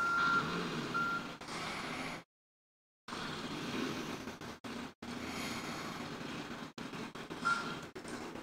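In Call of Duty Black Ops zombies mode, a game vehicle sounds a steady series of reversing beeps over engine rumble. The sound is cut by several abrupt dropouts, including one full second of silence.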